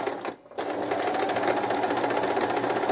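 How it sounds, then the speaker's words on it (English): A sewing machine stitches across fabric along a marked line, starting after a brief pause and then running in a fast, even mechanical whir with a steady rapid needle clatter, close and loud. "My needle down, and I'm going to sew from one corner to the other"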